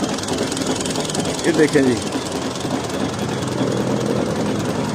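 Tractor engines pulling trolleys for a Suthra Punjab cleanliness program pass along a road in Kasur, Punjab, a steady rumbling drone under brief talk, with a louder knocking swell midway.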